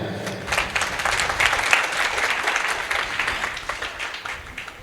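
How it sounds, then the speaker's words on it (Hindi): A congregation at a Christian gathering applauds in a steady, dense round of many hands that swells slightly in the middle and tapers at the end, with faint voices beneath. "ताली बजाएं"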